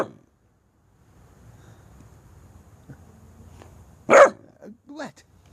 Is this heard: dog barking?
yes